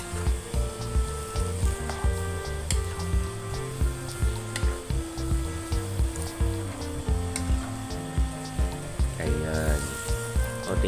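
Pork for menudo frying in a pan while it is stirred down to the bottom. A steady sizzle sits under background music with occasional scraping of the spoon, fairly close and loud.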